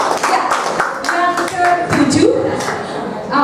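A short burst of audience applause at a school event, clapping heard alongside overlapping voices and someone speaking, fairly loud and close.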